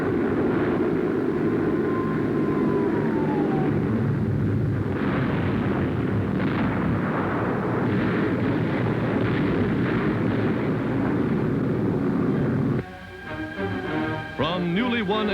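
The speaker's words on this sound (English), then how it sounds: "the Allies are dropping their bombs upon the heart of Nazi Europe" Allied bombers over Nazi Europe in a 1944 wartime newsreel: a dense, sustained rumble of aircraft engines and exploding bombs, loud and continuous, with a falling whistle early on and the roar thinning out near the end.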